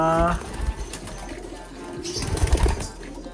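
Pigeons cooing in a small loft or coop kept for breeding pairs, with a few soft coos at the start and intermittent bird calls and rustling throughout, close and moderately loud.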